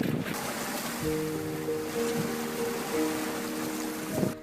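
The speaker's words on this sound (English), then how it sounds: "cranks up his engine and speeds the mama otter away to safety" An outboard boat engine rumbles steadily on open water as the boat speeds a mother otter to safety, its hum riding over surf and wind noise, with a short throttle surge near the end.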